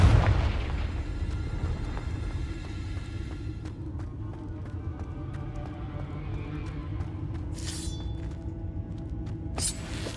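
A Confringo fire spell bursts in Hogwarts Legacy with a heavy boom at the start, then a long low rumbling roar continues under sharper crackles and a couple of bright high bursts near the end.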